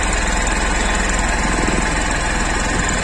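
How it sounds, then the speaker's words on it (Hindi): A 2024 Honda SP 160 BS6 motorcycle with a 160 cc engine idling through its exhaust, a steady low pulsing putter with constant loudness and a windy rush over it, no talking. "इधर अपन को इसका एग्जॉस्ट मिलता है जो भी आपको ऑन करके सुनाता हूँ मैं"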